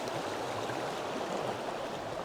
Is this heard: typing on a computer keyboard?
no